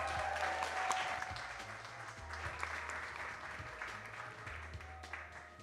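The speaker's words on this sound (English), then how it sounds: "Come on, we could clap a little better for her." Indoor gala audience applauding a young girl modelling a dress, sustained steady clapping from a modest crowd, fairly faint, with a low steady hum underneath and no speech.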